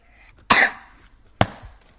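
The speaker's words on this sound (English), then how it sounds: "I just coughed" Two sharp bursts of coughing, about a second apart, the first stronger with a short tail, in a quiet room during a Rubik's Cube solve, with no talking over them.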